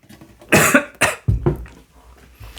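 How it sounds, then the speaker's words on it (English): A few harsh, close coughs from a person with long COVID in quick succession, with short pauses between bursts and a quieter trailing cough at the end. "You will have this consistent cough now and then."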